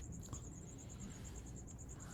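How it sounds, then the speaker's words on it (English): Crickets chirp in a shady wooded spot, a rapid, steady high-pitched pulsing that carries on throughout, faint and distant over low outdoor rumble. "Listen. For the crickets."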